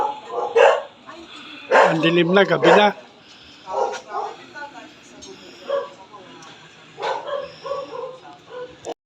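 A dog barks in short bursts outside a family home at night, the sharp yaps coming in clusters amid people talking nearby.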